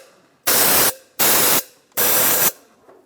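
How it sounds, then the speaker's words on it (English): Three short, loud bursts of compressed air blast sand and dirt from the intake ports of a 2004-2010 BMW X3, each hiss lasting about half a second with brief pauses between. "You can just take a little compressed air and just make sure you get all the sand and dirt out of there"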